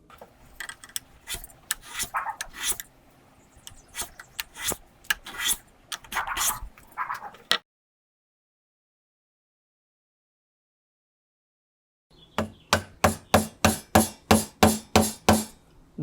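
Tapering a wooden sliding dovetail by hand produces close, quiet bursts of rasping and scraping strokes, irregular at first and then a crisp run of about nine evenly spaced strokes after a silent gap.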